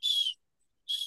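Two short, shrill blasts of a dog-training hunt whistle sound close and loud, each about a third of a second long and separated by a brief silence.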